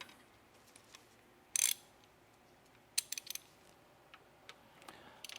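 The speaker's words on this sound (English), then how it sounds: "And then we're going to take our ratchet. And the procedure calls to snug up" A ratchet snugs up bolts during timing chain work on a BMW M62TU 4.4-litre V8, with a short burst of rapid clicking, then a few quicker ticks and scattered faint clicks over a quiet workshop background.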